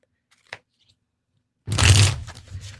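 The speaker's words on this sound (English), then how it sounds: "Everybody can hear the shuffling, but there's no banging." A deck of true crime themed tarot cards being shuffled: near silence with one faint tap, then a loud, close burst of dense riffling and papery rustle that carries on to the end.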